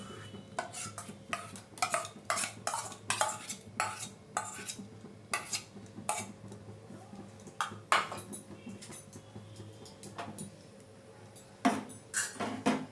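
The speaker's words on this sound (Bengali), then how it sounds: "ক্ষীরটা ভালো করে দুধের সাথে মিশিয়ে নিচ্ছি।" A spoon clinks and scrapes against a metal pot while homemade kheer is stirred into milk for watermelon malai, giving repeated sharp taps in an irregular rhythm over a faint low hum, with no talking.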